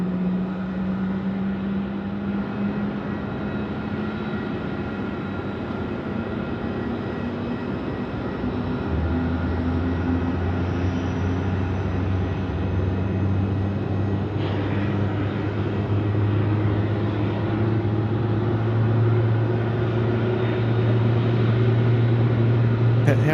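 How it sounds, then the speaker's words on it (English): Airbus A350 jet engines spool up at night at Melbourne airport, a steady droning whine that rises in pitch partway through and holds loud and constant, heard from a distance. "Mate, we're also featuring the A350 spool up as well."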